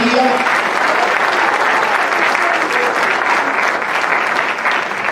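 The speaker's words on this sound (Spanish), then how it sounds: "¿Cuántos pueden darle un aplauso a Jesús, su Salvador, en este día?" A church congregation applauding during a Sunday service sermon, a loud, dense and sustained wash of clapping from many hands that continues without pause across the whole stretch.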